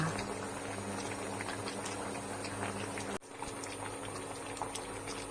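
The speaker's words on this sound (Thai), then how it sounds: "เราจะต้มในน้ำเดือดประมาณ 10 นาทีค่ะ" Namwa bananas boiling in water in a pot: a soft, continuous bubbling and simmering, faint and close, with a brief dip in the middle before it carries on.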